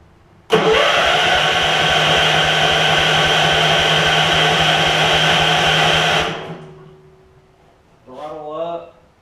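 Gravely 16 professional walk-behind mower engine, choke on, cranks briefly and then catches into a loud, steady running roar close by for several seconds before cutting off, followed by a short spoken remark.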